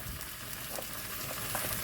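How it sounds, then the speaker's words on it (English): Steady sizzling of tofu frying in a pan, a continuous crackling hiss with faint scraping, close and moderately quiet, no voices. "we're going to put this in the frying pan and fry it off slightly"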